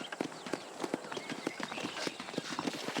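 Horse hooves clip-clop in the Red Dead Redemption video game, a quick regular patter of light, fairly faint hoofbeats in a steady walking rhythm with no voices.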